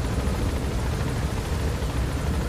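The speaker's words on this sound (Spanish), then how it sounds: "¿Veis el detalle cuando el helicóptero pasa cerca del nivel del mar?" A helicopter flies in the video game Metal Gear Solid V, a continuous dense rotor and engine roar that stays steady and loud throughout, with no voices over it.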